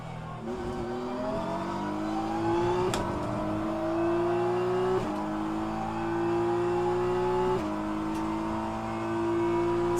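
BMW race car engine in the sim racing game rFactor 2, a steady droning whine rising in pitch through several gear changes with brief dips between shifts, heard continuously and alone at moderate loudness.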